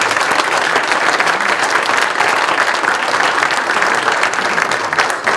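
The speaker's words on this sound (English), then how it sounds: "If you can give them another round of applause." An audience at a criminal justice panel event gives the speakers a sustained round of applause, dense steady clapping that fills the whole stretch with no talk over it.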